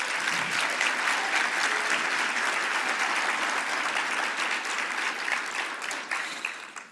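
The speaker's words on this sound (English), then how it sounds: "always we should begin with a big round of applause for CSPC volunteers" Steady, dense applause from a large audience at a science policy gathering, honouring event volunteers; sustained clapping fills the whole stretch and tapers slightly at the end, with no talk over it.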